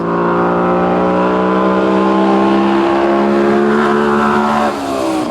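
A 1974 White truck with a GM 6-71 engine and open exhaust roars loudly and steadily up close, its deep harmonic drone rising slightly in pitch under load before a brief dip near the end.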